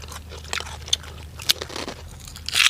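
Crunchy pork rinds bitten together with spicy snail salad, giving a few sharp, close crunches and chewing over roughly three seconds, with no talking.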